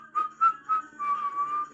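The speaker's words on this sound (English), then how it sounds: "Try whistling." Someone whistles a short, light tune nearby: a few quick chirpy notes, then a longer wavering held phrase, with no talking.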